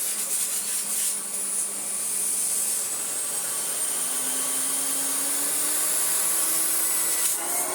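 A restored 1985 Electrolux Z327 Sup'Air vacuum cleaner runs steadily on its low setting, a smooth, fairly quiet whirring hum with a faint rising tone near the middle, heard close and alone.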